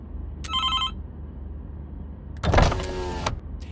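Telephone ringing in the video game Road 96, a short electronic ring burst early on, then a louder mechanical whirring sound later, with no talking.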